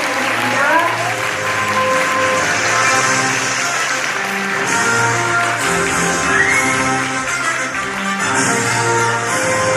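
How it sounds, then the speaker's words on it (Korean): An audience claps steadily at a 2019 rally and seminar event as a speaker is welcomed, sustained and fairly loud, with background music playing underneath. "큰 박수 부탁드리겠습니다"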